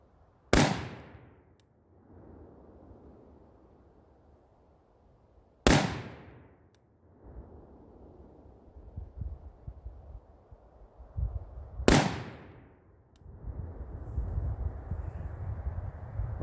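A DDM4v7 rifle fires with Hornady ammunition on an outdoor range, three sharp, loud single shots spaced about five seconds apart, each with a short rolling echo and low wind rumble between them.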